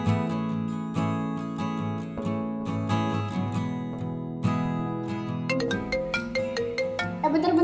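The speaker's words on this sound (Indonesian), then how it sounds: "Ada telepon dulu." Phone ringtone of an incoming call plays a bright repeating melody with steady rhythmic notes, loud and close, with no voices over it.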